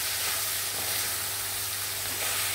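Goan beef chilli fry with coriander sizzling in a pan while being mixed, a loud continuous hissing sizzle over a low steady hum, close and unbroken.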